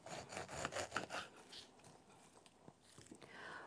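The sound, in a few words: serrated knife cutting pineapple ends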